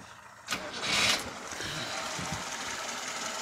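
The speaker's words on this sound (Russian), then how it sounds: "работает мотор чисто, стабильно, вот что мне нравится" A VAZ classic with a 1.6 engine and Solex carburetor starts with a brief loud crank and catch, then settles into a steady, even idle close by.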